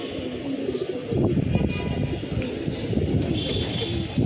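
A male breeder pigeon on a rooftop coos in repeated low, throaty bursts close by, with faint chirps and background noise around it.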